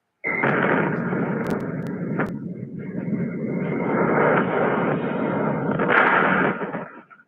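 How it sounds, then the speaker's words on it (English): SpaceX Starship Ship 36 exploding during a static fire test, a sudden loud roaring blast that rumbles on for several seconds with sharp cracks, then cuts off. "The explosion happened during what's called a static fire test."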